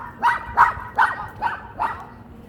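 A dog barks five times in a quick, evenly spaced series of sharp, fairly close barks, with no voices and only quiet background between them.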